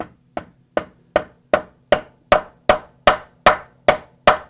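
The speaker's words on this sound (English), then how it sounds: "And then I've got this fun little hammer" A small craft hammer taps metal flat in a steady run of about a dozen sharp, ringing strikes, evenly spaced and close up, with no talking.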